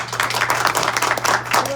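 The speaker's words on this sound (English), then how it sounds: "let's give them another round of applause" An audience at a film Q&A gives the filmmakers another round of applause, a dense, steady wash of many hands clapping close together throughout.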